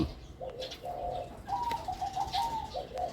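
Several soft, low coos from a female dove in quick succession, near and clear, with light outdoor noise and a few faint chirps.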